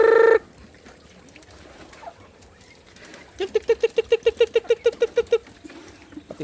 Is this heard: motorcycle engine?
no